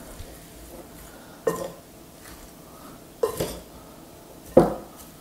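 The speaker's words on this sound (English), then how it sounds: "Crack the egg in, give it a bit of a stir." Egg being stirred into an onion bhaji mixture, heard as a few distinct clinks and scrapes of a utensil against a bowl, spaced apart over a quiet background.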